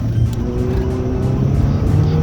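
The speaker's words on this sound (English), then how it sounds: "And then finally shifting into second." Race car at a track-attack autocross event, engine droning loudly and close from start to finish, its pitch shifting as it changes gear, no talk.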